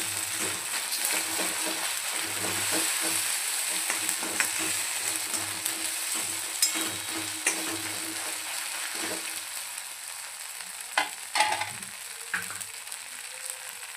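Ginger garlic paste fries in a pan with a continuous hissing sizzle, with occasional scrapes and clinks of a spoon stirring through it.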